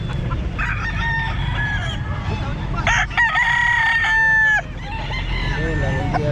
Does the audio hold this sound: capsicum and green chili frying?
no